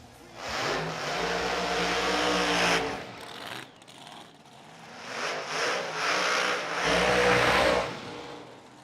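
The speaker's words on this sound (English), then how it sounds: "See if we get some side-by-side burnouts here" Two drag race cars at an outlaw series event in Huntsville roar through side-by-side burnouts, engines swelling and easing in long revving bursts at a moderate distance, with a short lull between runs.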